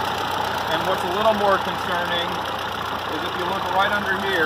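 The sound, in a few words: Ford 8N tractor engine idling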